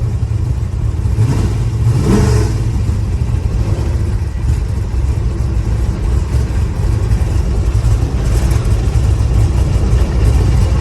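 A car engine with fouled spark plugs runs loud and close, rumbling unevenly with a rough, uneven idle and a couple of brief revs near the start, and no talking over it.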